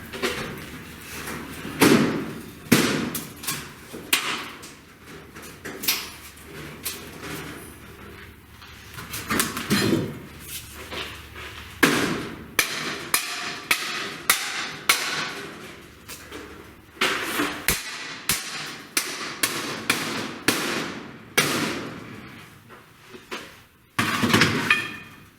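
Half-inch metal conduits jammed into place while building a larger powder coating oven in a driveway, heard as repeated loud knocks, thumps and scraping clanks in irregular bursts, with no talk.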